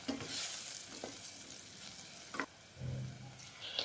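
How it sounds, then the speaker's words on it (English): Spices frying in a pot for a beef stew are stirred, with soft scraping strokes and a low sizzle running throughout, a few louder spoon knocks standing out near and alone. "So I stirred it off until they were nicely cooked."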